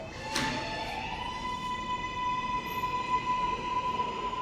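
Subway train arriving at Crown Heights–Utica Avenue, giving a steady rumbling roar with a sustained high metallic whine from the wheels, loud and continuous.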